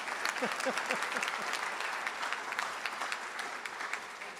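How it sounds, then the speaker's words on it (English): Audience applause at a college inaugural celebration, steady dense clapping from a large crowd filling the whole stretch at even volume. "one last round of applause for everybody"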